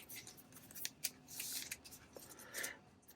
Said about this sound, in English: We'll shuffle these all back into the deck